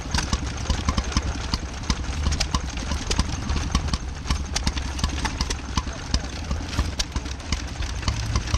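Several stationary engines, a mix of diesel, petrol and paraffin types, chug and idle together at an outdoor steam rally, their steady rapid knocking rhythms overlapping in a busy mid-distance jumble that runs without pause.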